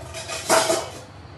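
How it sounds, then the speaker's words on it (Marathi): A single metallic clank and scrape as a lid is set onto a pressure cooker, brief and close. "ह्याच्यावर झाकण ठेवूया"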